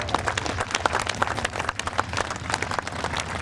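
A crowd at the Woodchurch 2005 air show applauds the Honda Dream Team air display, steady scattered clapping from many hands, fairly close and continuous.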